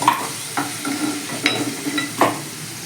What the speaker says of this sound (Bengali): এই তেলের মধ্যেই আমি দুটো তেজপাতা দিয়ে দিলাম দুটো শুকনো লঙ্কা দিয়ে দিলাম আর একটু গোটা গরম মশলা দিয়ে দিলাম